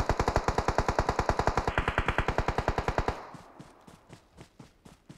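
Rapid automatic gunfire in the mobile game PUBG Mobile: a loud, close burst of evenly spaced shots for about three seconds, then quieter, more distant single shots at a slower rhythm.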